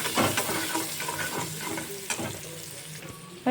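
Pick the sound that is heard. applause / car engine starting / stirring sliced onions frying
stirring sliced onions frying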